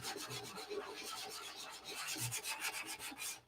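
Coarse 80-grit sandpaper rubbing over body filler on a car panel, a steady back-and-forth rasping scrape with rhythmic strokes, close and moderately quiet, no talking.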